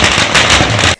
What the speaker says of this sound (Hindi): इस दौरान पटाखे भी फोड़े गए।